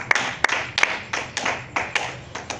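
Church congregation clapping in praise of the Lord, a steady run of about eight sharp handclap beats at a regular rhythm with nothing else over it.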